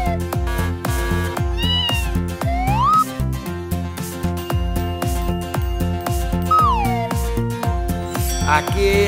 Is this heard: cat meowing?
yes